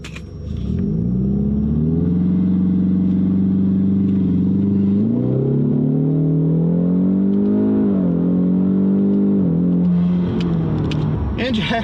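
A Ford with a 10R80 automatic transmission launches in second gear with traction control off. The engine roars loud and close, and its pitch climbs steadily with brief dips and rises for about ten seconds.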